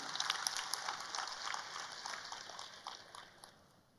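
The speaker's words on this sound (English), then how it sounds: "Very big clap to him." Quiet crowd clapping at a spiritual gathering honouring Osho, a soft continuous patter from a distant audience that gradually fades away.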